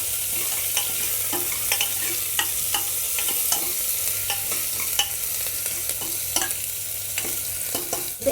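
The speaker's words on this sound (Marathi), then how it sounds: "एक मीडियम कांदा बारीक चिरून घेतलेला तो टाकूया आता कांदा चांगला भाजून घ्यायचा" Finely chopped onion sautéing in a pan for mutton paya soup, a continuous close sizzle punctuated by regular scraping knocks of a spoon stirring, unbroken throughout with no voices.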